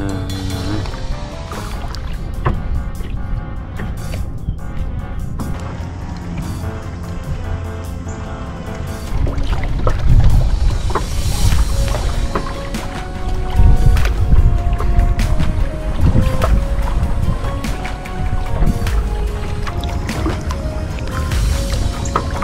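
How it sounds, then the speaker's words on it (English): Small waves slosh and slap steadily against the hull of a pleasure boat under way on the open water from Cape May toward Annapolis, a continuous close wash with engine rumble beneath. "These are just baby waves."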